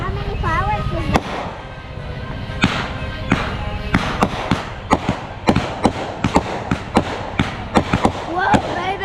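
Backyard fireworks in a grand finale: a rapid string of sharp bangs and thumps, loud and close, quickening toward the end, with excited voices faintly heard over the blasts.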